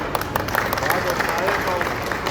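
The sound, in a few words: audience clapping loudly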